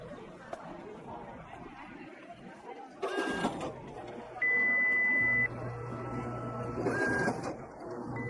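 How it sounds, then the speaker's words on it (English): A malfunctioning office copy machine with bursts of mechanical whirring and feeding noise, a sustained electronic beep tone and shorter beeps, over faint background chatter and people talking. "this copy machine is definitely not working properly. A serious malfunction."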